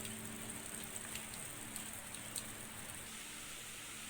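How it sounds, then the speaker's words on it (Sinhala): Soft, steady patter of rain falling outdoors, a faint constant hiss with occasional distinct drips. "ඔන්න ආයෙත් එළියේ චුරුචුරු වැස්ස"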